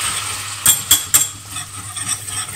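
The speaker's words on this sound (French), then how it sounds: "et je mélange bien" Flour being stirred into melted butter in a pan to make a roux, with a few sharp scraping clinks of the utensil against the pan over a soft sizzling background.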